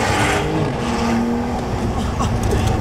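A Porsche 911 sports car engine revs loudly and close by, a rough, rising roar with a high whine on top.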